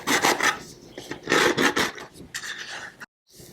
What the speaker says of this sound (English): I'm going to take a file and deburr the edges a little bit